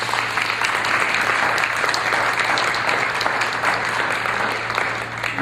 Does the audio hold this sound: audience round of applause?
yes